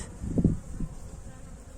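Honey bees buzz at an opened winter hive, a close, low hum that swells briefly, then settles into a soft, steady drone.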